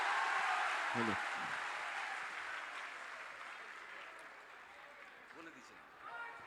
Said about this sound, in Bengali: জোরে হাততালি দিয়ে স্বাগত জানান